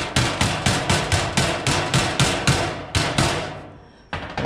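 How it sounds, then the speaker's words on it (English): About a dozen sharp, evenly spaced taps seat the bottom panel of a metal hanging tool cabinet, close and crisp, followed by a brief pause and one more tap. "I'm gonna tap that bottom over."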